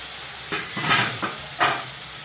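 Chopped tomatoes hit a hot pan for tomato chutney, giving a few short bursts of sizzling and stirring that rise and fade over a quiet, low background; no talking.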